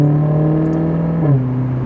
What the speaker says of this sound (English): I like to stop talking every time that engine note comes on.